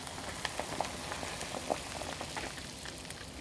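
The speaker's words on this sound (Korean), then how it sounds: "한번 이렇게 팔팔 다시 끓으면 불을 꺼주고요" Homemade sweet soy sauce comes back to a rolling boil in a pot on the stove. Soft, irregular bubbling pops and light crackles sit over a steady simmering hiss, close and fairly quiet.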